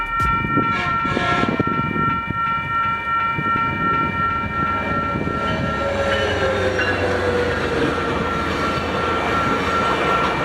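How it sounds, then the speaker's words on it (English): A northbound FrontRunner commuter train in Utah, led by Locomotive 5, rumbles past close by with a steady roar. Its horn sounds in sustained blasts over the rolling noise of the cars. "The first one would be a northbound FrontRunner with Loco 5 leading, which also gave a horn show."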